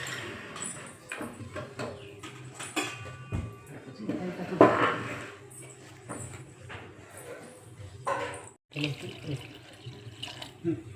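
Water pours steadily into a cooker pot of home-style curry for a few seconds midway, amid kitchen clatter, with a voice talking over it.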